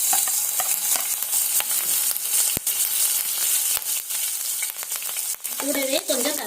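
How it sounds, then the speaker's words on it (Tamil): Chopped green chili sizzles and crackles in hot oil with fennel seeds while being stirred, a close, dense frying hiss with scattered spoon scrapes and pops throughout. "இப்போ ஒரு பச்சை மிளகாய் சேர்த்துக்கலாம்."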